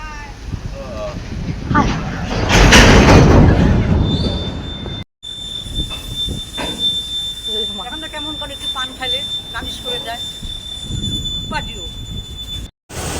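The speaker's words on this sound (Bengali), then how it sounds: "এই যে বলতে বলতে ট্রেন চলে এসেছিলো" A train pulling into a station, with a loud rising rush of wheels and long high metallic squeals of braking, while people talk nearby on the platform.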